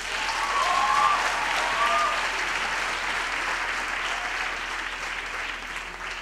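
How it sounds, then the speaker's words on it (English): A graduation ceremony audience applauds the choir in a sustained wash of clapping that stays loud and then tapers slightly, with faint voices mixed underneath. "Can we please have another round of applause for the choir?"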